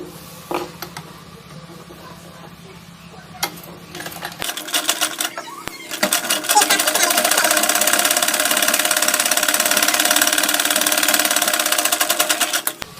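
A sewing machine stitches piping onto fabric, first in quiet, short bursts with clicks and handling noise, then running steadily and loudly in a continuous whirring rattle for the second half.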